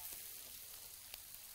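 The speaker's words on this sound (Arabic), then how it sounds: "ونبتدي نديها تحميرة" Chicken pieces fry in a pan with onion, rosemary, thyme, butter and oil, giving a faint, continuous sizzle with a few soft crackles and no voices.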